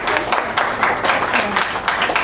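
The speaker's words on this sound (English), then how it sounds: "Let's clap for her" An audience at a housing advocacy event claps in a short burst of dense, overlapping hand claps, fairly loud and close, with some voices mixed in.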